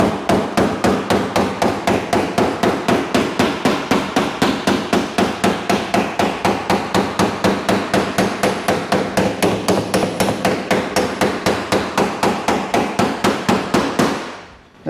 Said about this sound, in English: you'll see here where I'm hitting that with the hammer